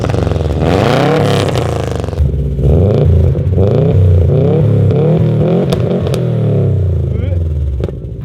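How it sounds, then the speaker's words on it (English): Subaru STI fitted with a new Invidia G200 exhaust drives past, its engine note rising and falling through revs with a throaty, rumbling tone, loud and close throughout. "Let me know what you guys think about the new exhaust."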